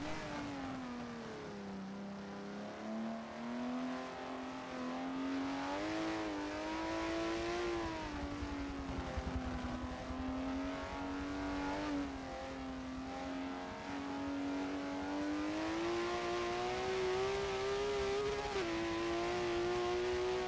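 A 2005 TBR Seguros race car in Forza 7 drives flat out down a straightaway on lap three, its engine a steady close drone whose pitch rises and dips with gear changes throughout.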